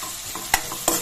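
Sliced onions fry in a pan for a chicken pulav, a steady soft sizzle broken by two sharp scrapes of a spoon stirring them, close and alone without voices.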